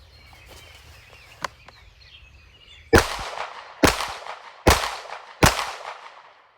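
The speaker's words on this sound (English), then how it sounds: "take a look at the results I was able to get shooting from behind cover using the laser sight" Four sharp, loud pistol shots fired from behind cover using a laser sight, evenly spaced about a second apart, each with a short ringing decay, following a quieter stretch with a few small clicks.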